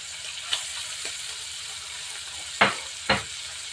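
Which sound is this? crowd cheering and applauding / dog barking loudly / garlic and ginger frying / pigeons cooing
garlic and ginger frying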